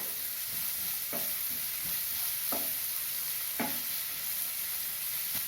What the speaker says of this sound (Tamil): வெங்காயத்தை ஒரு 3 நிமிஷம் வதக்கணும்